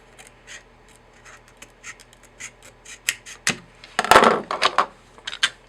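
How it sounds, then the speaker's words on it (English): Scissors snip through 35mm film, a run of crisp clicks and cuts that grows louder and denser toward the end, heard close up with no talking. "I usually just cut it like this"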